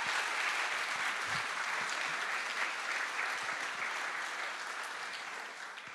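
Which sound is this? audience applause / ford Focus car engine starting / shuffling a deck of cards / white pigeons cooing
audience applause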